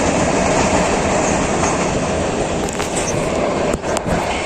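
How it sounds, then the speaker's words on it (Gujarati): A metre gauge Junagadh–Veraval passenger train runs toward Somnath, heard close by as a steady loud rumble of wheels on rail with faint clacks and squeals, no voices. "જુનાગઢ વેરાવળ જુનાગઢ તે ટ્રેન હજી ચાલુ છે, જે સોમનાથ જાય છે."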